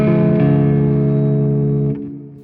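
A 22EDO synth chord on the second degree, built on the lower second degree to give a perfect fifth, sustains as a held microtonal triad for about two seconds, then fades. Loud and alone.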